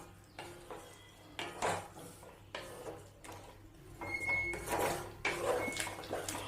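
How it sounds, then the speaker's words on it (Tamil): Boiled vegetables being stirred into korma gravy in a pan, giving intermittent bursts of utensil scraping and clinking against the pan with short pauses between strokes, close and moderately loud with no talking. "காய் சேர்த்து நல்லா மிக்ஸ் பண்ணி விடுங்க."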